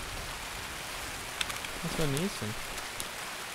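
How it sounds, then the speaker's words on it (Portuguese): Steady rain falling in the video game Escape from Tarkov, a constant soft hiss throughout, with a brief tonal in-game sound and a short spoken remark over it. "hoje choveu o dia inteiro no jogo"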